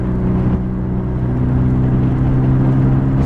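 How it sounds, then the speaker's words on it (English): A 2000 Plymouth Neon base model drives with the windows down, its engine and exhaust giving a steady, throaty low drone with a constant hum, loud and close from inside the car, with no talking. "You got the windows rolled down so you can hear how throaty the exhaust."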